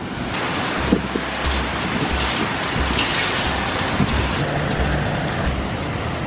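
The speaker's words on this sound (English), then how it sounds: "there's literally sideways rain. It's insane out there." Heavy storm rain is driven sideways, roaring as a dense, loud, continuous wash with gusty surges and scattered drop impacts, and no talk is heard.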